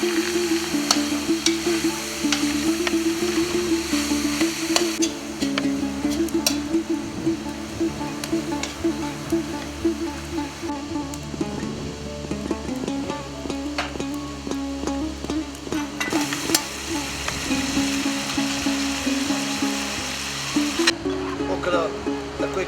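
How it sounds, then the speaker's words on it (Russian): Steady sizzling of meat and onions frying in a large cauldron (kazan) for Tajik shurpa, continuous and fairly loud, with faint voices and background noise mixed in. "Наше мясо готово, добавляем лук, будем жарить, пока оно не станет красным"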